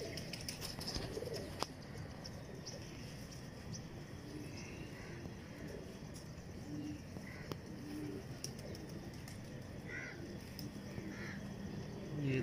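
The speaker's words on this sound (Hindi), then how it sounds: "ये फिरोजपुरी कबूतर हैं" Ferozpuri pigeons coo softly and intermittently in a breeder's loft, their low, faint calls scattered over steady background noise.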